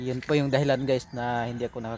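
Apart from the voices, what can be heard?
No distinct noise like a dog, phone or traffic.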